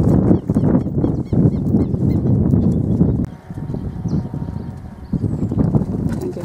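A dun roan (bayo ruano) Quarter Horse from the Oro y Té stud steps on hard ground, its hooves making a steady run of close clip-clops, broken by a brief lull and then resuming amid light outdoor noise.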